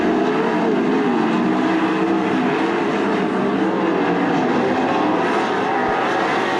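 410 sprint cars racing at Attica Raceway Park make a loud, continuous engine roar that fills the air steadily, with no letup and no talking.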